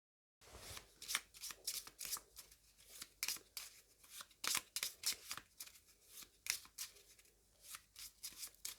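Someone shuffles a deck of cards for a board game, a close run of crisp riffling bursts repeating irregularly for several seconds with no talk.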